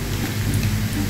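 Cabbage with sugar and salt sizzles and crackles steadily in a hot pan, making a close, dense hiss without any voices.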